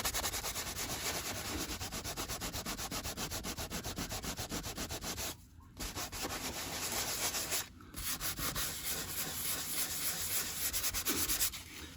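Someone lightly sands a Jaguar XJR leather seat, making a steady close rasp of rapid back-and-forth rubbing strokes with two brief pauses.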